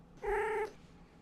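A single cat meows once, a clear drawn-out call close by, with quiet room tone before and after.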